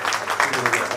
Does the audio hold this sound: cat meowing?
no